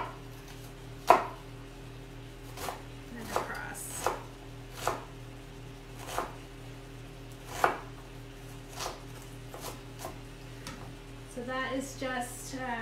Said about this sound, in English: Way to cut an onion and have it all be sort of uniform.